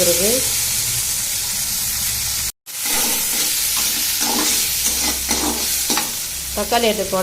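Onions and tomato sizzle and fry in a pan for a ridge gourd and moong dal dish, with a constant loud hiss. A brief cutoff breaks it, then a spoon scrapes and stirs in repeated strokes, and faint voice-like tones come through.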